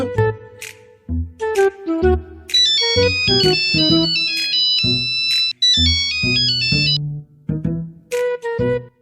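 A bright electronic ringtone melody plays loudly and clearly, repeating short tonal phrases with brief pauses, no voices present.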